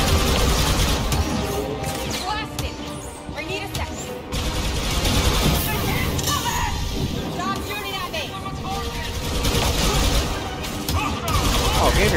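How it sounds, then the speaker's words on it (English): Sustained blaster and gunfire in Star Wars: Battlefront 2, dense overlapping shots and mechanical battle noise filling the whole stretch, with game voices and chatter running underneath. "He's shooting at me, shoot him back."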